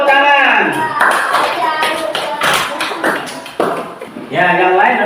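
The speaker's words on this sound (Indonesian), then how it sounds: "Tepuk tangan untuk temanmu yang" Group clapping in a classroom, a bright rattling patter of many hands, with children's and an adult's voices speaking Indonesian over it.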